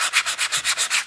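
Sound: sanding aluminum casting with sanding block, 220 grit

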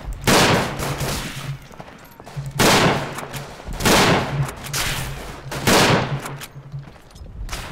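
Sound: gunfire in the video game Verdun

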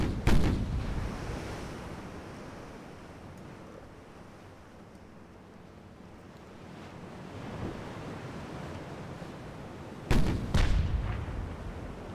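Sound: battleship guns firing ranging shots, Ultimate Admiral: Dreadnoughts video game

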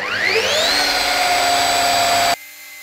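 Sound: car polishing machine running at speed 3, about 1200 rpm

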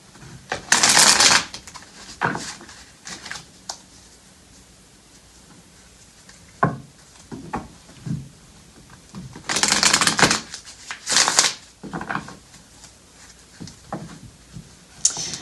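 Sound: shuffling tarot cards

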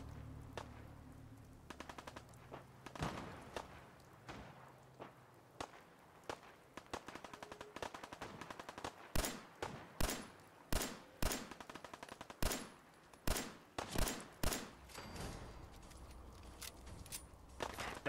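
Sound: gunfire from the video game Fallout 4

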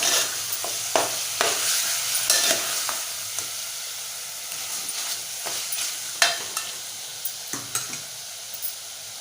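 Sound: stirring and frying spicy chicken in a pan

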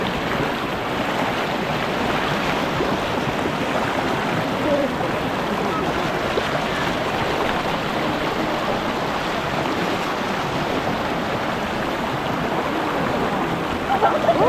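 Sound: strong stream flowing at waterfall

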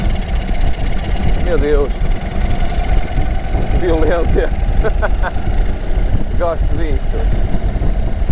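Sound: Indian Sport Chief 2023 motorcycle engine revving

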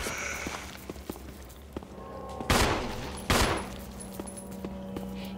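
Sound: gunfire in the video game Resident Evil HD Remaster

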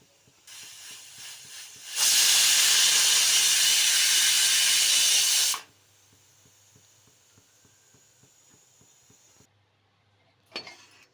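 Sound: pressure cooker whistle and steam hiss, cooking gherkin gravy

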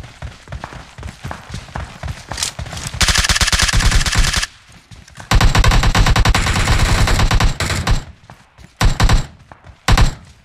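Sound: machine gun gunfire in PUBG Mobile video game

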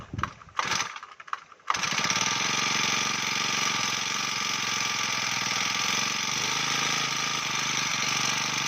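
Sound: small engine starting and idling

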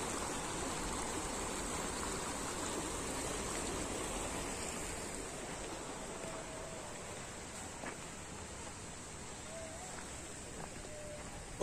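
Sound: flowing water stream from Aygır waterfall

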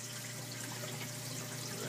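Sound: water overflowing into aquarium sump filter socks

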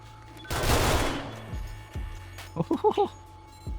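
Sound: remote auto turret firing at zombies, 7 Days to Die video game

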